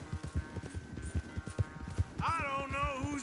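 Rapid hoofbeats of a horse galloping in a race pound steadily up close, then give way to a loud whinny; faint voices sit in the background.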